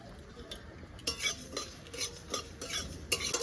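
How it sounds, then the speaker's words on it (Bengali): Spices for a chalta pickle are dry-roasted and stirred in a pan, a steady run of scraping and clinking strokes from a spoon against metal, close by with no talking. "এবার আমি আচারের জন্য যে মশলাটা করবো সেই মশলাটা ভেজে নেবো"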